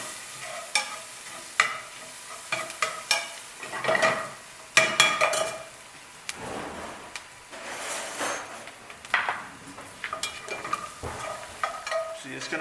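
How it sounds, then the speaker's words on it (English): Garlic and onions being sautéed and stirred in a pan for New Mexican carne adovada, with an uneven run of sizzling, spoon scrapes and metallic taps, loud bursts alternating with quieter frying. "So I'm just gonna add my garlic and stir it again."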